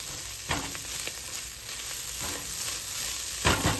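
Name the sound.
stirring beef broth into rice in a pot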